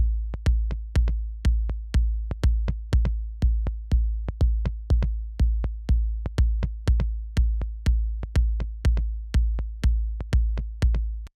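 A deep, punchy EDM kick drum layered with a stereo kick thumps in a steady driving pattern, each hit booming with a short decay, loud and alone with no other instruments.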